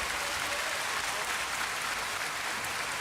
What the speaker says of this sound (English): I want to give you another round of applause.